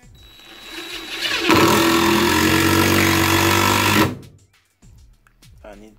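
A DeWalt 20V Max DCF885 impact driver sinks a 3-inch screw, its motor spinning up then hammering loudly and steadily for about three seconds before stopping abruptly, followed by quieter handling noise.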